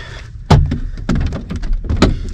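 Someone tugging at a locked van door: a sharp handle clunk, then more thuds, rattles and taps in uneven bursts, close and fairly loud, with no speech.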